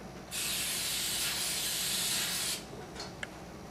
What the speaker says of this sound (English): First, we'll need to spray it with cooking spray.